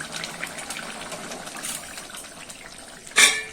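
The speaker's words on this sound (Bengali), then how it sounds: "টকবক করে ফুটছে" A sour hog plum (amra) dish boils, giving a close, bubbling, watery gurgle that ends in a short louder splash, with no speech.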